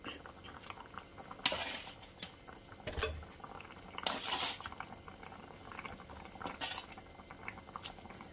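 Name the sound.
curry broth boiling in a pan for fish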